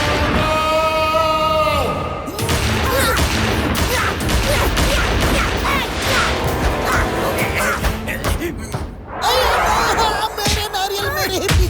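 Rapid bursts of cartoon gunfire crackle amid shouting voices and chaotic crashes, with loud energetic talk and music throughout, from a 3D animated kids' show.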